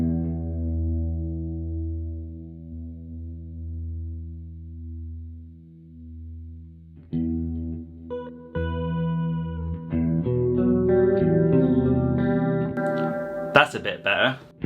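An electric guitar tuned for a heavy metal tone sustains a single note that is reshaped as its chorus effect is adjusted, then breaks into distorted, echoing playing that builds to a loud, busy finish.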